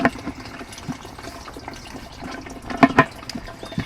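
Water trickles and splashes from a DIY automatic watering setup on a GreenStalk vertical planter, a soft uneven flow with a few brighter spurts close by.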